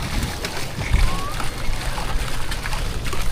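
Water sloshes and splashes inside a leaking small wooden boat at sea, with a heavier splash near the start and steady churning, trickling water throughout, under a constant wash of surrounding noise.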